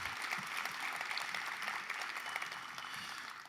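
A morning audience at a county government event claps steadily throughout, a soft, even spread of applause heard from a distance with no voices over it.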